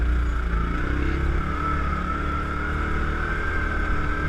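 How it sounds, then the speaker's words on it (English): A Yamaha Rhino 700 side-by-side engine drones steadily while driving on trails, a loud, constant low rumble with a sustained mid-pitched engine tone and no voices. "You really got to watch when you're driving these things too."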